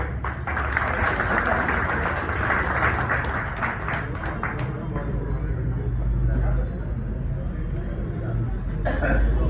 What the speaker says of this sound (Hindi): शाह मिर्जा साहब के लिए तालियां।